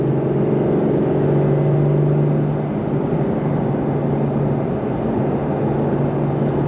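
A 2025 Porsche 911 Carrera GTS T-Hybrid gives a steady engine and exhaust drone with a low hum, heard from inside while cruising, loud and continuous without talk.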